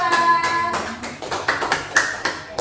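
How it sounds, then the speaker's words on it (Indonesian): A classroom group claps for a presenting team, uneven bursts of hand claps and taps coming in loose rhythmic clusters, close and moderately loud. "Tepuk tangan untuk kelompok 2."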